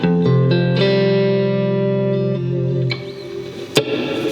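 Electric guitar played through a Quad Cortex with a big reverb effect, sustained chords ringing out and decaying into a long wash, with a sharp pluck near the end.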